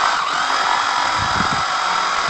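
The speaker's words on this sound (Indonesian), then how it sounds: "ngebor-ngebor aja kamu." A power drill bores into a log of felled timber being turned into a plant pot, a steady loud whirring grind that swells briefly in the middle before settling back, with no talk over it.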